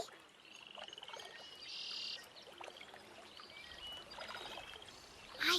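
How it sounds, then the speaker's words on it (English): Outdoor forest and pond ambience: a steady wash of breeze and water with scattered bird chirps and tweets and occasional croak-like calls, plus a louder rustling burst right at the end. "I hear water. I hear wind. I hear birds."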